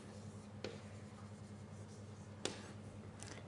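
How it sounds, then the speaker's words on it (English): Chalk or marker writes on a board in a lecture hall, with faint scratchy strokes and two sharp taps over a steady low hum of room noise. "So I write down"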